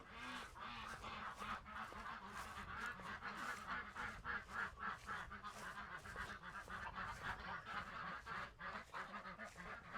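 Ducks and geese on a homestead make a noisy, overlapping chorus of honks and quacks, pulsing in rapid bursts and continuing without a break, fairly close and with no talking.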